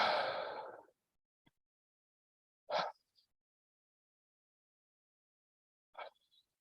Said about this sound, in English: starting to take full deep breaths in and out of the mouth